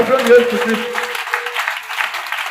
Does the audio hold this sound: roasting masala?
no